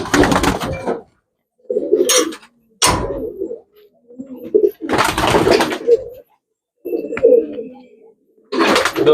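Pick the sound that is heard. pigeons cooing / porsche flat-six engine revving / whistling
pigeons cooing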